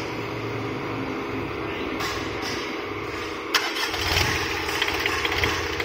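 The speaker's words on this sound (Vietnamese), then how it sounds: "Em sẽ nổ con Mitsubishi L3 cho anh em mình xem cái tiếng nổ của nó như nào nha" A Mitsubishi L3 small diesel engine is cranked and catches, settling into a rough, rumbling run up close against a steady mechanical background.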